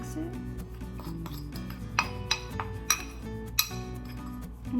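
A spoon stirs a paste of powder and apple cider vinegar in a bowl, making soft scraping rubs punctuated by several sharp clinks against the side, close and fairly quiet.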